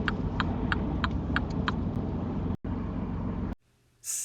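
A car under a mock UK driving test moves off from the kerb with a steady mid-pitched engine hum and road rumble, close and continuous, then cuts abruptly near the end.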